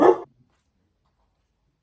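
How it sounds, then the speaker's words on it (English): A dog gives one short, loud bark at the very start, close by, then falls silent. "So the doorbell went and the dog barked and chaos ensued."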